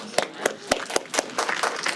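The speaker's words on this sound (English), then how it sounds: "I think we need one more round of applause for our winners" Audience clapping for award winners at a city innovation prize presentation, a few distinct claps spaced about a quarter second apart and building toward scattered applause, moderately close and fairly short.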